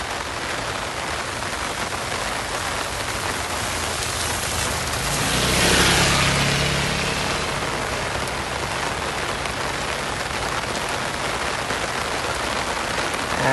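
Steady rain drumming on an umbrella during a walk toward a marina in Phuket, Thailand, a dense continuous patter close overhead with traffic noise swelling briefly in the middle and no one talking.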